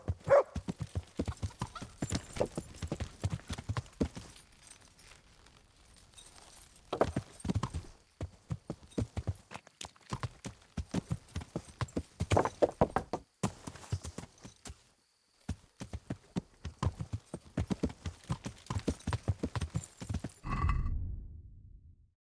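Horse hooves clip-clop in steady bursts as a rider moves through Kingdom Come Deliverance, the rhythm pausing briefly between runs before a final heavier thud; close and moderately loud, no talk.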